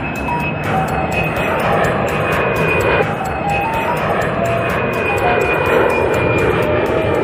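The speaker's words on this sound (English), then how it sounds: "Private jet." A private jet flies with a steady, close engine roar and a sustained high whine that holds for several seconds.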